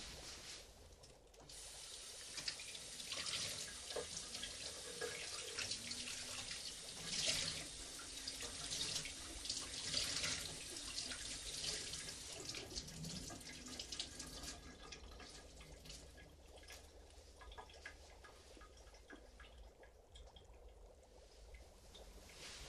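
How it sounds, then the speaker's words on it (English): Water runs steadily from a tap into a sink for a stretch of rinsing, a continuous hiss and splash with slight swells. There are no voices. "I'm just gonna rinse off, okay?"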